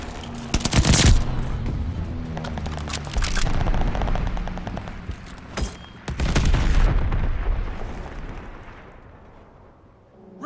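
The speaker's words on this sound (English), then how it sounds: "Allies called a bombing run." A bombing run in the World War II shooter Call of Duty: Vanguard: heavy booming explosions land around rattling machine-gun fire, with one strong blast early and another rolling detonation later, loud and near before fading off.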